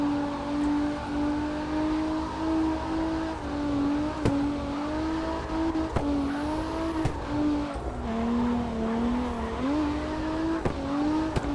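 A car in the CarX racing game holds a long drift, its engine droning steadily while tires squeal continuously, with the pitch wavering as the slide is held, loud and alone.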